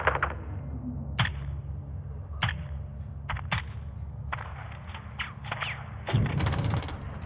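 Gunship rounds from a Call of Duty air-support mission slam into buildings as a series of about seven distant, dull thuds and cracks, spaced irregularly over a steady low engine rumble, with a denser burst of impacts near the end.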